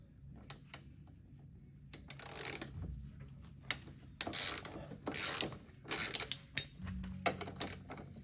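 Hand ratchet working a 19 mm nut on the transmission mount of a Mk1 VW Cabriolet, close, quiet clicking in short runs with tool clanks and pauses between them.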